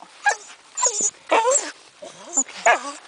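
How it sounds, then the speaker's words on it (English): A Sheltie shepherd dog yips and whimpers in several short, high-pitched bursts, close by, with brief pauses between them, during a snowstorm. "No more barking."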